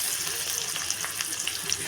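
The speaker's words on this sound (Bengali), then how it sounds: "এখন আমি এর মধ্যে দিয়ে দিব শুটকি।" Dried fish and onions fry in hot oil, giving a faint, steady sizzle with light crackles and pops throughout, with no voices over it.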